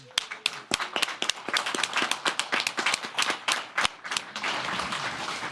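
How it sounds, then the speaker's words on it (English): Audience at a city council meeting claps for several seconds, starting with distinct close hand claps that thicken into steady applause, with no talking over it. "Let's have a round of applause for Judge Blanton."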